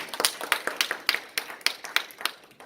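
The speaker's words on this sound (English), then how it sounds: "Give yourself a round of applause." Hand clapping during a motivational talk, a short run of sharp, evenly spaced claps in quick rhythm, close and fairly loud, more like a few people than a full crowd.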